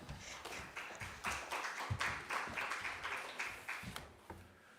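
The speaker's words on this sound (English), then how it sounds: "Please give a round of applause" Audience applause at an international sustainability symposium, faint and distant, with steady rhythmic clapping pulsing in even beats for about four seconds before fading.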